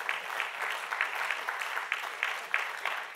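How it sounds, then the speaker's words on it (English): An audience applauds steadily at a talk on Christian faith and democracy: dense, even clapping that carries from start to finish, with no voices on top. "Yeah, that's worth an applause."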